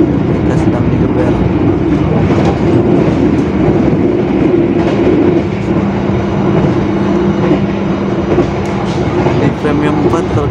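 Inside the Argo Parahyangan passenger train running at full speed between Jakarta and Bandung: a loud, steady rumble of wheels and carriage with faint rhythmic clatter and a low hum throughout.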